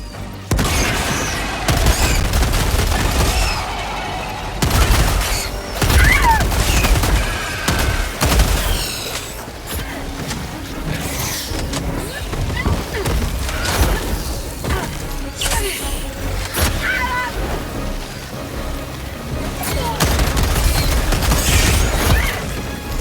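Helldivers 2 combat with grenade explosions and gunfire, heavy booms and crashing blasts recurring among rattling shots and debris over a long, loud stretch, with occasional game voice lines.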